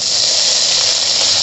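Mustard seeds and curry leaves sizzling in hot oil while chicken masala is being made: a loud, steady, close hiss of frying with no breaks and no voices.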